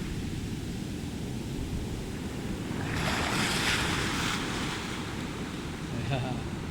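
Pacific Ocean waves wash and roar onto the shore in a continuous rushing surge, swelling louder midway, with wind buffeting the microphone.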